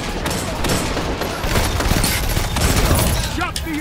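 Rapid bursts of pulse rifle fire in the Destiny shooter, dense crackling gunfire filling the whole stretch, loud and close, with game effects layered over it.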